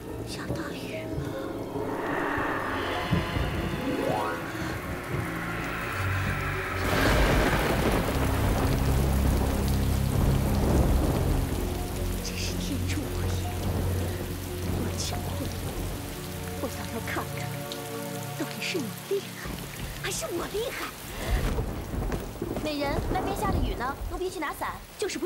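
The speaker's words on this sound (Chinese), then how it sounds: "外面下大雨了" Heavy rain pours steadily through a rainy-night scene in a Chinese palace drama, with low rumbles that fit thunder, while voices speak and whisper over the downpour.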